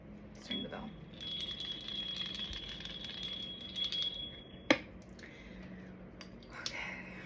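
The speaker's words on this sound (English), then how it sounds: "let's ring the bell." A small handbell rings with a sustained bright tone for about three seconds, followed by a sharp single strike, in a quiet room.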